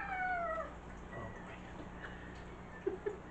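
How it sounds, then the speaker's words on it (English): A house cat gives a short, rising meow near the start, fairly clear against low room hum. A voice murmurs a brief sound, and faint ticks follow near the end. "Sorry for the cat, folks. And we got a cat in the house."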